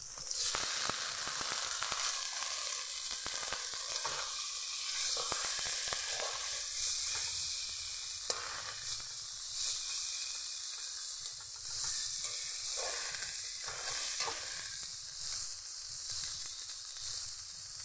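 Boiled potatoes and pre-boiled peas sauté in hot oil in a pan, giving a steady, close sizzle and crackle throughout, with occasional soft scraping from stirring and no voices.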